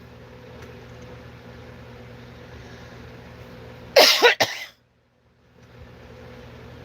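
A short burst of loud, harsh coughing, two or three hacks close together, breaks a quiet room tone and is followed by near silence.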